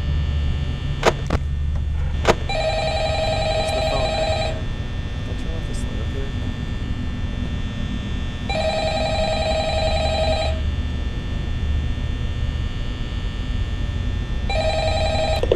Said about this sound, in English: Would you pick up the phone?